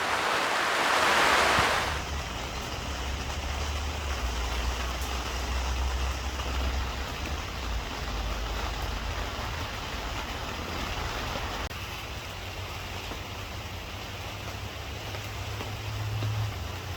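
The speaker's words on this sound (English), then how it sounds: "it's raining today. It's actually pouring." Heavy rain pours steadily outdoors on an overcast day in a garden, a dense continuous wash with a louder gust of noise at the start, no voices.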